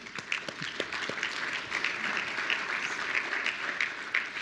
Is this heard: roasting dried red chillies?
no